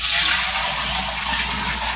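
Homemade bone broth pours steadily from a pot without a spout into a kitchen sink, a loud, continuous rushing gush of liquid lasting the whole moment with no voices.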